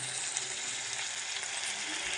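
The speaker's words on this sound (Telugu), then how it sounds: "ఉల్లిపాయలు, మిరపకాయలు మొత్తం కలిపి వేపిస్తున్నాం" Onions and chilies fry in a hot pan, giving a steady, close, even sizzle that holds for a couple of seconds with no voices.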